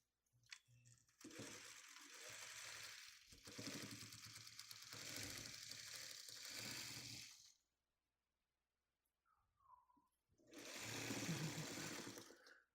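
A sewing machine stitches quilt block pieces in long steady runs, pausing briefly between bursts of close, loud whirring, with no talking.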